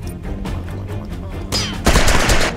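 Gunfire in the tactical game Jagged Alliance: Back in Action: a steady patter of shots, then a louder, denser burst of automatic fire near the end, with no one talking.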